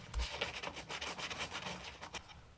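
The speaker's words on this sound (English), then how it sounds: "Now I use a quite coarse sanding sponge," Repeated scratchy back-and-forth rubbing of a coarse sanding sponge on a model aircraft canopy, close and fairly quiet, in quick irregular strokes with no talking.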